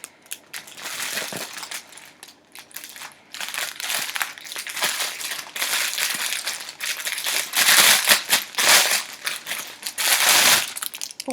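A plush cactus toy from an AliExpress haul being unwrapped from plastic packaging, a long run of loud crinkling and crushing bursts that swell and pause irregularly, close up with no talking.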